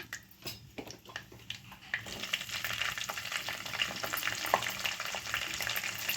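Green chillies are tipped into a pan of frying onions and lots of garlic for gongura curry, and the soft crackling swells into a steady, busy sizzle after a few light taps and stirs.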